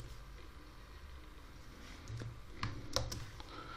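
A computer keyboard clicks softly as a few keys are tapped in Oracle SQL Developer to enter a Control Space shortcut, with quiet scattered keystrokes over low background hum.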